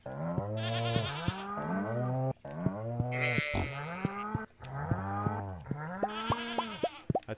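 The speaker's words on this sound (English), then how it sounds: "I guess I'll deal with cows first." Cows in a barn in the video game Stardew Valley moo in a run of loud, close, drawn-out calls, several overlapping lowing notes in quick succession with brief gaps between them.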